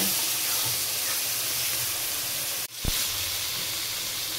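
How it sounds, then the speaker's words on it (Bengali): Ginger, garlic and onion paste fries with potatoes in a pan, giving a steady sizzling hiss that is broken by a short clatter of stirring near the middle. "এবার এটা দিয়ে ভালো করে কষিয়ে নেব।"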